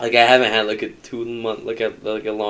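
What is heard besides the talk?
None of the usual background noises is heard.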